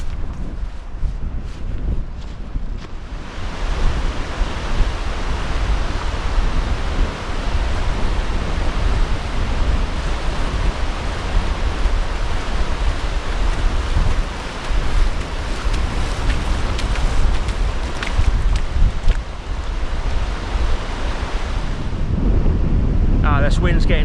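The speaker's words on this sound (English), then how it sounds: "This wind's getting stronger." Strong easterly wind buffets the microphone on a beach at Oxwich Bay, a loud, continuous broadband roar of gusting wind noise that holds steady almost the whole time, with surf likely mixed beneath it.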